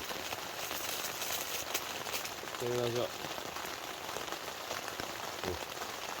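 Steady rain patters continuously on a taut Pomoly Dome X4 hot tent while wild camping in Scotland, a dense hiss of drops with a brief low tonal noise in the middle.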